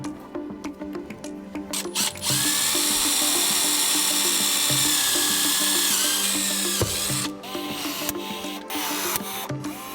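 A power drill whirs in bursts then runs in one long steady whine while a metal intake vent screen is riveted onto a 2025 Ski-Doo Freeride snowmobile, with clicks and taps between runs.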